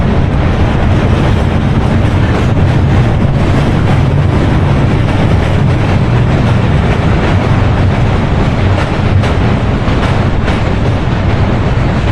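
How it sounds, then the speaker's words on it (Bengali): A train crosses the old British-built steel Hardinge Bridge, a loud continuous rumble with rattling wheels and strong wind buffeting, sustained throughout at close range. "এখন কিন্তু ব্রিজের উপর দিয়ে ট্রেন যাচ্ছে"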